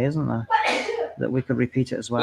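A single sharp sneeze bursts out between stretches of conversation, loud and close, with people talking before and after it.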